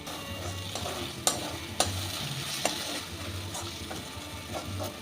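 Spice paste for a ridge gourd and paneer curry fries in a pan and is stirred, giving a soft, close sizzle with a few distinct utensil clicks and scrapes and no talking.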